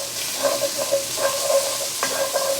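Garlic sizzles in a hot pan while a utensil stirs it, giving a steady close frying hiss broken by several soft scraping strokes.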